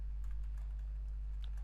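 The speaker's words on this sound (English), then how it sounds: "here I'm just typing" Light typing on a computer keyboard while building a Bootstrap list group, a short run of soft, faint key clicks over a low steady hum.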